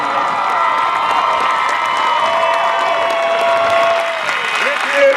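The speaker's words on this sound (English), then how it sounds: "Once again, with a big round of applause" Crowd applause and cheering in a high school football stadium, a broad sustained roar of clapping and shouts mixed with tonal sounds that may be music or a public address system, steady for several seconds.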